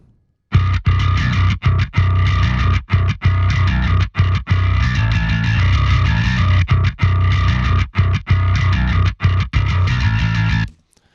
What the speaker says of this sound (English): Let's just see what this bass sounds like.